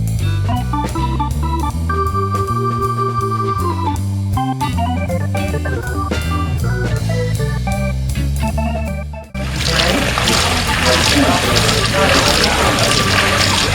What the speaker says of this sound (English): We enjoyed the sound of splashing water from the fountain and the mill wheel